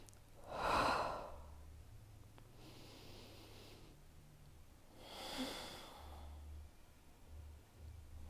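Slow, audible breaths during a grounded triangle yoga pose: a soft inhale and a longer exhale a few seconds apart, close and quiet over low room hum.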